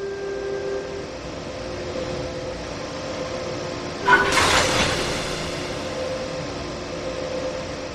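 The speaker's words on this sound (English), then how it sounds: "Now couple the locomotive to the freight." Locomotive, a BR 185 in Train Sim World 3, coupling to freight wagons: a steady rail rumble broken by one sharp metallic clank of the coupling about halfway through, then the hum resumes.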